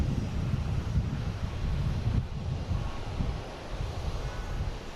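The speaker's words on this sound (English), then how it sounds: "Next one is a Delta E175 coming in from LaGuardia" Delta Embraer E175 regional airliner arriving at Boston Logan from LaGuardia, a steady broad jet engine roar with wind noise, fairly loud and continuous throughout, no one speaking.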